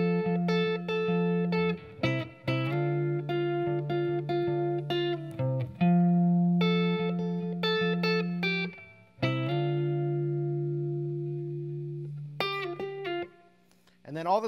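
An electric guitar plays a riff, clean plucked notes and ringing sustained tones with short sliding gaps, moderately loud and alone.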